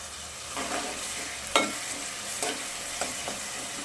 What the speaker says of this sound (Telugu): ఆనియన్ రెడ్గా ఫ్రై చేసుకోవాలా